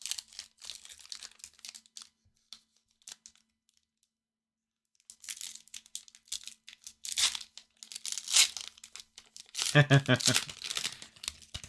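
Lorcana booster packs being torn open at a release-day box opening: crisp foil crinkling and ripping in several bursts separated by pauses, close to the microphone, with a brief bit of speech.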